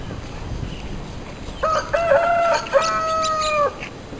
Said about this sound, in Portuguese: Ó, o galo cantou.